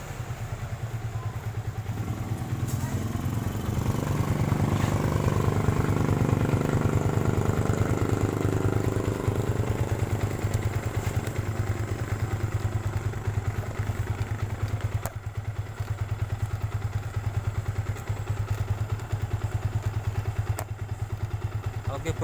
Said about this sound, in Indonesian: di sini kondisinya mesin ini sudah hidup